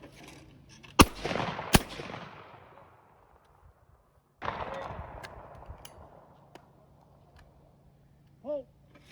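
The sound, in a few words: Parker Brothers shotgun firing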